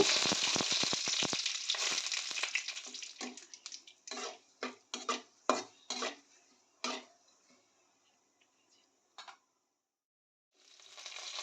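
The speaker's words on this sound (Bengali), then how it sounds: "এবার তেলের মধ্যে অ্যাড করছি কালো সর্ষে দিয়ে দিচ্ছি কারি পাতা কারি পাতাটা একটুখানি ভেজে নেব" Black mustard seeds and curry leaves hit hot oil with a loud burst of sizzling and popping that fades into scattered crackles and spits, then near silence before the frying swells again.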